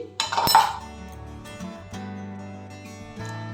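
A metal plate handled in a kitchen while covering gaja dough: one sharp clink near the start, then softer scraping and light clatter with a faint steady hum beneath.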